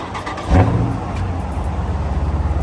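A Dodge Scat Pack car's engine accelerates from a sudden loud rev into a steady low rumble, with a faint trembling pulse running through the tone and no talking.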